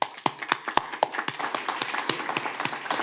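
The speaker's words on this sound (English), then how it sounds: "Let's give them a round of applause." A small audience at a Boynton Beach city commission meeting claps after an Alzheimer Awareness Month proclamation, with scattered, uneven hand claps close by that thicken slightly toward the end.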